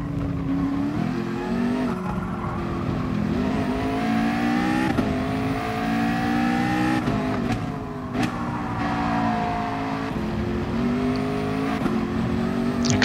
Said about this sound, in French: Gros freinage ici.